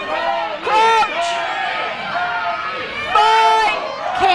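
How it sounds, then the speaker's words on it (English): Crowd at a university rugby varsity match between Kings and UCL in London, a steady roar of chatter and shouting with louder swells of cheering and voices calling out close by. "Kings have got some more noise in the crowd now"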